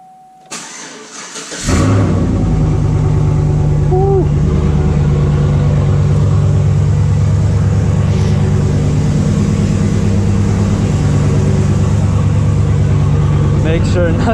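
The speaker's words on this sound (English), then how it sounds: "I need to start up my dirt bike because it's been sitting forever." A Yamaha YZ250F dirt bike that has sat unused for weeks cold-starts after a few cranking bursts, then settles into a loud, steady, close-up idle with a brief blip or two, a voice speaking briefly over it.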